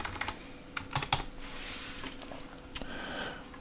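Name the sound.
typing on a computer keyboard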